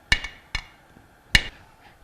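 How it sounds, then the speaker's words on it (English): A rubber mallet taps the end of a pump shaft on a Bell & Gossett pump during bearing assembly work, giving three short, dull knocks, two close together and a third after a pause, close by with no talk. "very gently I'm going to hit the end of the shaft"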